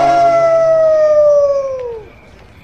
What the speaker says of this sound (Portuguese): na lua cheia, a fera aparece no pico mais alto da cidade e o uivo é seu aviso